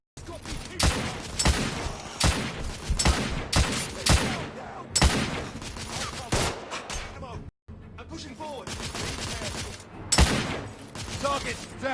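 Sustained machine gun fire in the video game The Order: 1886, dense rapid bursts of loud shots with brief pauses, mixed with other game sounds.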